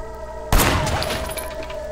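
A sudden loud burst of gunfire in the video game Sleeping Dogs cuts in over a steady background hum and rings out briefly.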